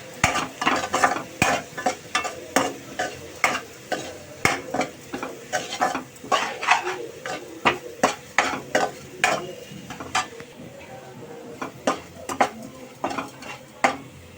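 Onions fry in a pan with turmeric and salt while a utensil stirs them in quick, repeated scrapes and knocks against the metal. A soft sizzle runs beneath the stirring, close and fairly loud, with no talking.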